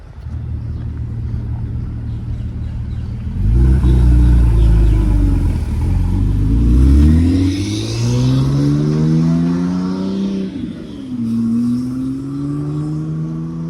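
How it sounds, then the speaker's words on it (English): Busy road traffic near a Brickell Key development in Miami, with cars accelerating and sweeping past one after another, engines rising and falling in pitch, loud and close, no voices. "Lots of traffic coming on and off."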